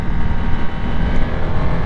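A Harley-Davidson Nightster 975 motorcycle with its Revolution engine is ridden, its loud continuous engine drone buried in heavy rushing wind noise for under two seconds, no talking.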